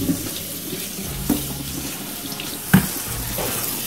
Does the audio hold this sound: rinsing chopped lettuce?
yes